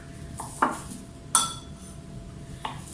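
A knife cuts butter into small cubes on a cutting board for Halloween cookie dough, giving three sharp clacks at uneven intervals, close up and fairly quiet, with no talking.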